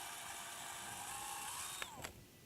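A power drill whirs steadily as it bores through a leather guitar pickguard, then winds down with a couple of sharp clicks at the end. The sound is close and moderately loud, with no speech.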